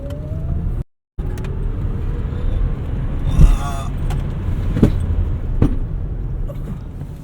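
A 2017 Tesla Model S 100D electric car drives with a steady road and motor hum and a faint rising whine, passengers inside, while someone talks over it; a brief dropout occurs near the start.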